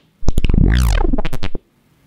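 A Serum synth pulse-width-modulated tone with an LFO sweeping its filter sounds as one buzzy note lasting about a second and a half, its brightness swooping up and down in a wobbling arc, loud and alone.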